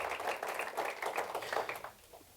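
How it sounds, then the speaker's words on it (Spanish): Church congregation clapping together in a steady, moderately faint round of applause that lasts about two seconds and then quickly dies away. "Dale un aplauso al Señor"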